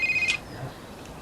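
A new mobile phone rings with a short, sharp electronic trill that lasts under half a second, close and clear, followed by quiet room tone.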